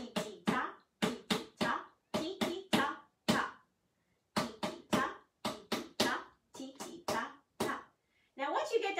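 Pots and pans are struck in a repeated ostinato pattern, sharp percussive hits grouped in short rhythmic phrases with brief pauses between, close and clear.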